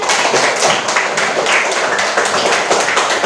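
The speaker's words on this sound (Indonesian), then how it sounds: "Kelompok 1 itu ada 5 bintang, beri tepuk tangan" A classroom of pupils claps for the first group during a lesson, a dense, steady patter of many hands that fills the room and stays close and even throughout.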